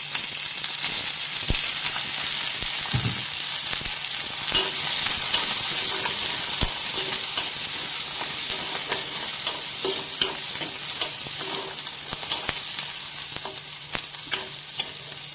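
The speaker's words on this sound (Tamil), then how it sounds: "சிம்லையே வச்சு வதக்குங்க, அப்படின்னா தான் நல்லா உள்ளெல்லாம் நல்லா வெந்து வரும்" Sliced onions sauté on a low flame in chilli-flavoured oil left from frying green chillies, giving a close, continuous bright sizzle broken by occasional spatula taps and stirring scrapes, with no voices.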